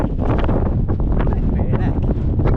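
Strong gusts on the mountain Cadair Berwyn buffet the microphone in a constant low roar, rough and close, with faint speech-like sounds mixed into the blustery noise.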